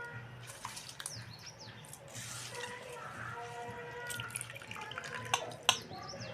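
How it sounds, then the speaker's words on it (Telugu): Home-grown non-basmati rice goes into boiling water in a pot for mutton bagara rice, giving a faint steady rushing and bubbling with scattered ticks and splashes, while birds chirp faintly in the background. "ఇప్పుడు ఎసట్లో నేనైతే బియ్యం వేస్తున్నా."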